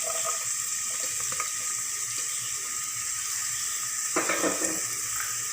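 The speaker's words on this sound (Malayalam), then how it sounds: "ഇനി ഇതിലേക്ക് ഇഞ്ചിയും വെളുത്തുള്ളിയും ചേർത്ത് കൊടുക്കുക." Ginger and garlic added to a pan with capsicum for soya chilli, frying with a constant dense sizzle and hiss; a stirring scrape rises briefly near the end, with no voices.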